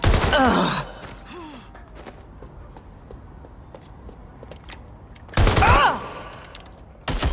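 Gunfire bursts from a Watch Dogs Legion firefight: a loud burst at the opening and another near the end, with quieter scattered shots and faint voices in between.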